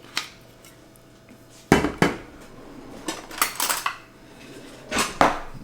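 Clinking and scraping as a cayenne and olive oil marinade for lamb chops is mixed in a small bowl, with irregular bursts of utensil contact against the bowl and quieter gaps between.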